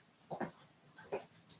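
A puppy whimpers in a few short, soft whines and yelps, close by but quiet, with a brief pause between bursts and no talking.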